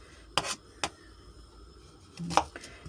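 Knife chopping onion on a board in a home kitchen, a few sharp, close cutting knocks: two spaced strikes, a pause, then two more, with quiet room sound between.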